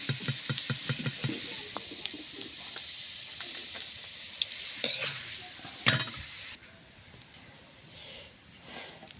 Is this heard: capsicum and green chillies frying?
yes